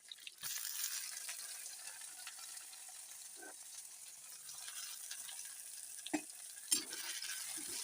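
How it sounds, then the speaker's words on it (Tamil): Green chillies, garlic and onion frying in a pan for a roasted brinjal kuzhambu, a steady oily sizzle with occasional scraping stirs and clinks, close and continuous with no talking. "பூண்டு இந்த பச்சை மிளகாயை ஃபஸ்ட்டு போடுறேன். அதுக்கப்புறம் பூண்டு போடுறேன். அதுக்கப்புறம் இந்த வெங்காயத்தை போடுறேன்."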